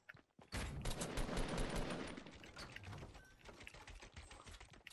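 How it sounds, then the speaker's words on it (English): Rapid gunfire in Fortnite strikes a wall, a dense rattling burst of shots that starts abruptly, stays fairly faint and thins out toward the end. "I'm just shooting that wall to try to shoot it down"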